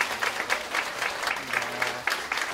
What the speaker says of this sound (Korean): 큰 박수로 환대하겠습니다